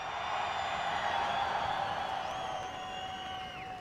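A large grandstand crowd at the Mondello racing circuit roars and cheers together, a dense, loud wash of voices with whoops and whistles that holds steady before easing slightly near the end.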